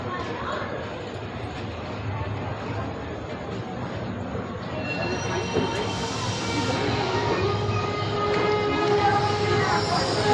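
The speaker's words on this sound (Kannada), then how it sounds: "ನೋಡಿ ಅದೊಂದು ಟ್ರೈನ್ ಇದಾಗ್ತಿದೆಯಲ್ಲ" A train rumbles at KSR Bengaluru railway station, a continuous low rolling drone that swells in the second half, with a faint metallic squeal and people talking over it.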